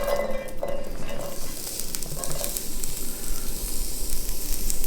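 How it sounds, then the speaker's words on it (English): Garlic and onions sizzling in a pan beside ribeye steaks, a steady broadband hiss that stays loud and even throughout with a few faint utensil clinks. "you can hear it kind of sizzling there"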